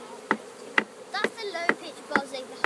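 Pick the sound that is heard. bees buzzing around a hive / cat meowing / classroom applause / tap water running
bees buzzing around a hive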